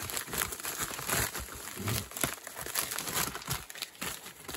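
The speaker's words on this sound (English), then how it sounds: "Packaging material." Packaging material being crumpled and handled up close: continuous crisp crinkling and crackling in irregular bursts, fairly quiet, with no voices.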